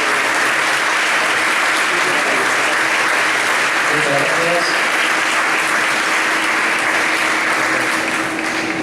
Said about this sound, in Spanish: Fuerte aplauso para ellos que están acercándose.